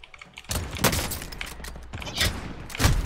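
Heavy gunfire from a video game thunders out in a few loud bursts over a continuous rumbling background, from PKM and FN weapons.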